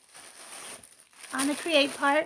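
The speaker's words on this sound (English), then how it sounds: "let me get them out because they're in a bag and it's going to be noisy" A plastic bag crinkles as homemade catnip cat toys are pulled out of it, giving soft, scattered rustles under a voice talking close by.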